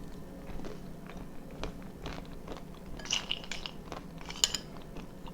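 Homemade roasted cashews crunched and chewed close up, quiet irregular bites and grinding with faint clinks of dishes in the background.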